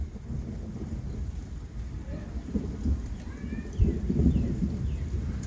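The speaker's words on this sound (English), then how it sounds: "And there's more thunder." A summer thunderstorm in Penfield, New York brings deep rolling thunder over steady rainfall, with the rumble swelling louder toward the end.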